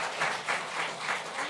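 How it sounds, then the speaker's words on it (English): Brief, fairly quiet round of audience applause at a panel session for filmmakers about to pitch, a soft wash of clapping with no voices on top. "huge round of applause for the brave filmmakers who will be pitching today"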